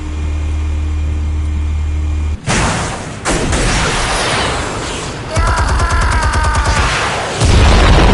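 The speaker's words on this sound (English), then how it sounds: "Explosives armed. Fire when ready." Explosives detonate in Batman: The Telltale Series, a loud, sustained wall of booming blasts and crackling rumble with a sharp break midway and a fresh burst near the end, with no talking.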